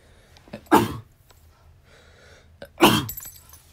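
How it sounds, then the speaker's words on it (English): Two sharp, loud sneezes from a person, spaced about two seconds apart, each bursting out after a short intake of breath in an otherwise quiet room. "I had a sneeze"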